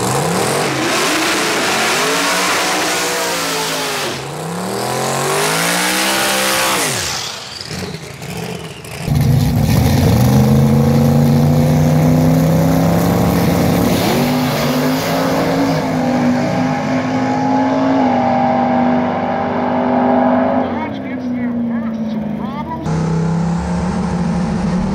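A Datsun fitted with a Vortec 4200 inline-six makes a drag-strip grudge pass, the engine loud and rising in pitch through the gears with clear drops at each shift.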